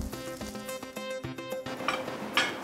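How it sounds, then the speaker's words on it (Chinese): Stir-frying in a wok during Chaozhou-style restaurant cooking, a metal spatula scraping and clinking against the pan in quick irregular strokes over a steady sizzle, close and moderately loud. "用力的铲上来，它才不会粘锅"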